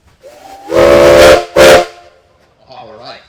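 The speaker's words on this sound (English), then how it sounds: "Now, Clayton, any whistles?" Steam traction engine whistle at a steam tractor show, sounding two loud blasts, one long and one short, with crowd murmur and a faint voice around it.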